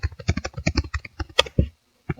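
Close, crisp keystrokes on a computer keyboard in a rapid run of about a dozen clicks, ending with a brief pause and one final tap.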